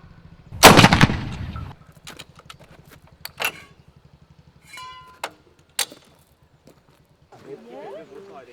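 A 6-pounder anti-tank gun fires one loud, sharp boom at a reenactment, followed by scattered clanks and clicks, with brief speech afterwards.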